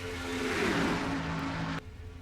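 A pack of race cars in a racing video game's Mello Yello 500 roars off turn 4, a loud engine surge sweeping past before cutting off abruptly.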